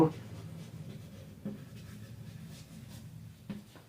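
A pen scratches along steadily while a division problem is worked out step by step in a maths lesson. The writing is soft and close, with a few light taps, and no talking.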